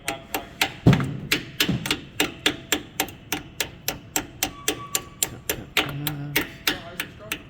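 A Swedish roofing hammer taps metal while a lift chain is being changed, a steady series of sharp, evenly spaced clinks, close and loud, with a short voice early on.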